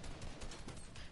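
A headshot lands in a multiplayer shooter match, with gunfire crackling through a dense, continuous wash of game noise for about a second, loud and busy with no clear separate shots.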